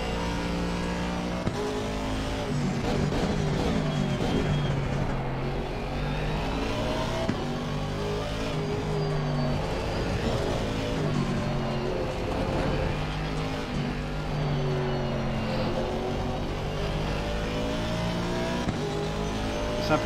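Ferrari race car in Assetto Corsa Competizione at Indianapolis, its engine droning loudly and steadily throughout with rising and falling revs as gears shift, other cars audible around it.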